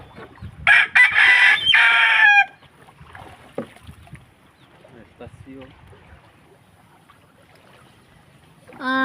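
A rooster near a chicken coop crows once, loud and close, for about two seconds, followed by quieter clucking and rustling, with another crow starting at the end.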